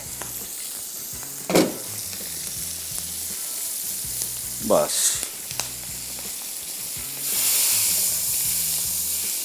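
Steady frying sizzle and hiss of achari tempering spices in hot oil for dal, with a few sharp stirring scrapes and a louder burst of sizzling near the end; brief speech.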